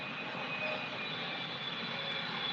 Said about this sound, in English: the airplane landing,